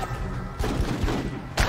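Squad point-fire gunfire from the Full Spectrum Warrior video game during a gun truck patrol: a dense, continuous burst of rifle shots with heavy low thumps, loud and close, and sharp onsets near the start and end.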